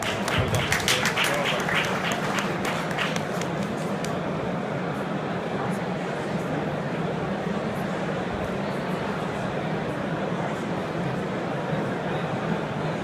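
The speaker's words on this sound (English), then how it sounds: "applause, please." An audience at Web Summit 2013 in Dublin applauds as a speaker takes the stage. Sharp individual claps stand out at first, then the sound settles into a steady, dense wash of clapping that continues throughout.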